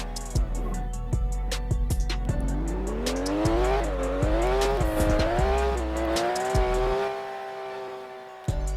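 A car in the Vehicle Legends video game accelerates hard, its engine pitch climbing through several gear shifts with tire squeal and clicking bumps, loud and constant with no talking.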